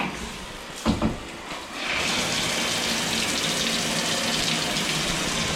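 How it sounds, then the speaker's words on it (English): Water gushes steadily from a shower into a Schluter shower pan, a broad, continuous hiss that starts abruptly after a couple of faint knocks and keeps running evenly to the end. "why don't we just turn the shower on and fill it up that way?"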